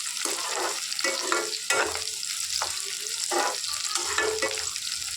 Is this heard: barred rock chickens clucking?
no